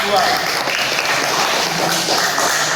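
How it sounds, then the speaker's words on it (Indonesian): Classroom applause for a student group after a history lesson presentation, a steady dense patter of many hands clapping throughout at moderate loudness, with some voices mixed in. "Tepuk tangan untuk kelompok 2."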